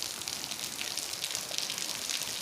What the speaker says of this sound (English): It's raining. Do you hear it?